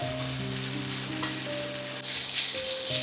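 Grated coconut frying gently in a pan over a moderate flame, a close, continuous sizzle that swells louder near the end, with steady tonal hum running underneath.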